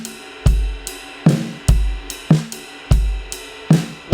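A worship-style drum groove in 6/8 rolls on with deep kick hits, crisp snare backbeats and steady cymbal wash, repeating evenly and loud with no talking.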